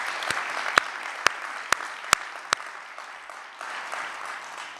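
Applause for city staff at a state of the city address in Alpharetta, a steady crowd clapping with several sharp individual claps standing out near the front.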